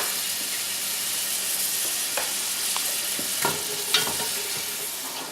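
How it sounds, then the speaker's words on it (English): Chopped onions frying in hot oil over medium-high heat, a steady close sizzle with a few brief pops and stirring scrapes; no one talks. "let's add onions to hot oil and let them cook for a little while or medium high."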